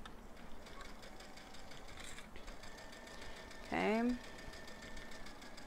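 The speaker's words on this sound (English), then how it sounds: "I just sew a little, move things, sew more." A sewing machine stitches a throw blanket with a faint, steady mechanical patter, while a person speaks briefly over it and a short rising tone cuts through midway.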